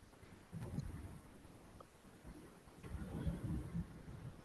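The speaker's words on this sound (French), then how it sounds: "On a encore des rafales de vent à plus de 100 km/h aujourd'hui" Storm winds gusting over 100 km/h buffet an outdoor microphone with low, rumbling surges that swell and fade in irregular waves. The sound is faint overall, with no voices.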